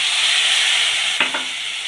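Tomato paste hits hot oil with a little kasuri methi for a mung dal aloo dum, giving a steady loud sizzle and hiss throughout, with a brief stirring clatter near the end.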